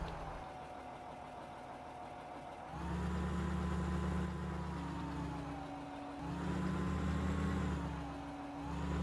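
Tractor engine pulling a plow in Farming Simulator 2015, a steady low drone that swells louder twice as the load rises, with a faint whine above.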